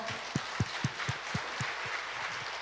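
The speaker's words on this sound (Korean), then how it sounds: "우리 하나님께 영광의 박수 올려드립니다." Worshippers at a Korean Sunday church service clap together in a slow, rhythmic beat: about nine distinct, evenly spaced claps from a moderately distant congregation, over faint room noise.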